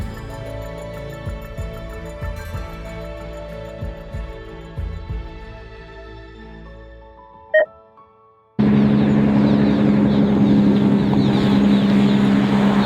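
A drone flying outdoors at the northernmost point of the Dalton Highway in Arctic Alaska, with birds swarming around it. Quiet wind and faint rumble at first, then a loud, steady motor hum abruptly takes over and continues to the end.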